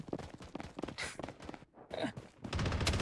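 Gunfire in the shooter game Blood Strike, rapid bursts of sharp shots in quick succession, close and loud, with a brief lull before a denser volley at the end.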